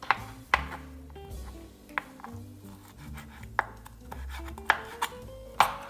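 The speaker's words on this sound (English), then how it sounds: "Get 1 little bunch of parsley. I'm just gonna chop that up." A knife chopping a small bunch of homegrown parsley on a board: sharp, irregular thuds and taps spaced about a second apart, close and clear, with faint kitchen clatter between strokes.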